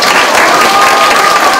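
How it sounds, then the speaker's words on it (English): Schoolchildren clap in a steady, dense round of applause for a visiting First Lady in a school setting, filling the room evenly from start to finish with no talk over it. "Let's give her a round of applause."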